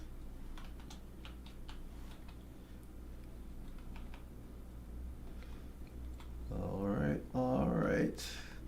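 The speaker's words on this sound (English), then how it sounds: "I'll just type it up here." Keys tapped on a computer keyboard while coding Python exercises, a sparse run of light clicks through the first half, followed by louder speech near the end.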